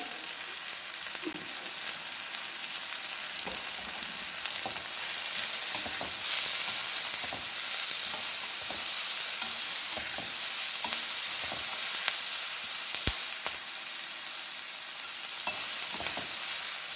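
Onions, curry leaves and salt sauté in a pan with a continuous bright sizzle, broken by scattered pops and stirring clicks, loud and close with no talking.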